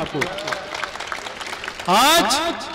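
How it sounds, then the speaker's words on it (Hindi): Audience applause at a poetry recital breaks out loud and dense near the end, following a stretch of someone speaking. "एक बार फिर तालियां बजाइए"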